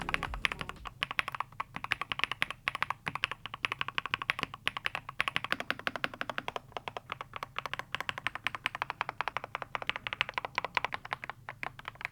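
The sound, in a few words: typing on HATOR Skyfall 80% wireless keyboards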